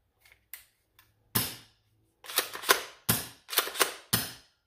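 An XYL M870 shell-ejecting toy shotgun blaster gives a few soft clicks, then a run of sharp, close snapping shots and mechanical clacks with short gaps between them.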